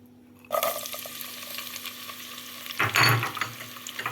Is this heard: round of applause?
no